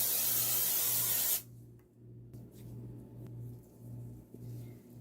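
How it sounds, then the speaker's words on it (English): Cooking spray hisses in one steady, loud burst over an 8-inch cookie or muffin pan for brownies, then cuts off abruptly, leaving a low background hum. "I'm going to grease my 8-inch cookie pan or muffin pan with"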